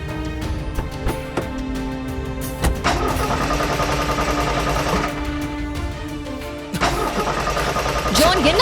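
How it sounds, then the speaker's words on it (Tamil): A car engine cranks repeatedly and sputters without catching, with several bursts of starter churning separated by pauses, heard up close amid tense dialogue between people. "வண்டி ஸ்டார்ட் ஆகல மேம்"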